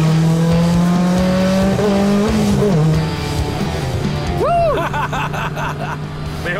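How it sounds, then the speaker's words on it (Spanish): A turbocharged car accelerates hard on a test drive, its loud engine note climbing steadily before a sharp rising whine and a change in tone partway through, close and continuous. "Esto no es para quemar caucho, es para andar derecho y rápido, para dejar que el turbo actúe."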